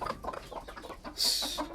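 A white rooster clucks while pecking at eggs, giving a run of short, close clucks with a brief rushing burst of noise partway through.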